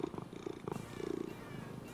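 A cat purring as an audiobook sound effect, a soft, close, rhythmic rumbling purr with a steady pulsing beat, quiet and heard on its own.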